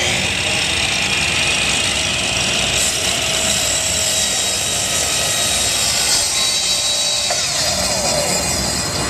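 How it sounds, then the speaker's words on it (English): A miter saw cuts wood for a candle holder, a loud continuous motor whine with blade noise that holds steady throughout. "We're using the miter saw here."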